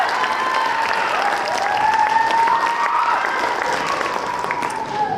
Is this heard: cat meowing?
no